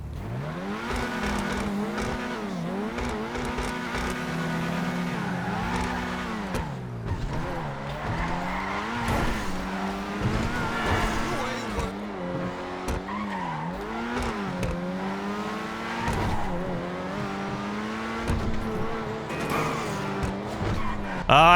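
A Buffalo EVX car in GTA 5 Online revs hard and screeches its tires through repeated slides and handbrake turns, the engine note climbing and dropping continuously, loud and close.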